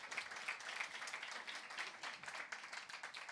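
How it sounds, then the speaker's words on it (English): Youth audience applauding at a church youth event, a steady patter of clapping from a modest crowd, fairly faint and even throughout. "Give him a round of applause, guys."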